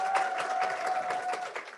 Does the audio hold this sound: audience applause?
yes